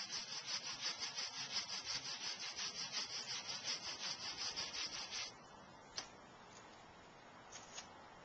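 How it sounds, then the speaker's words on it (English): A nylon brush rubs rapidly across anti-static HDPE plastic slats, producing a close, rhythmic scrubbing rasp for about five seconds, then it stops, leaving a few faint clicks and light handling noises. "can be rubbed with a nylon brush as much as you'd like and will not accumulate the"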